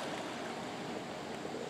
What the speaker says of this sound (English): It looks like they're letting only a little bit of water through.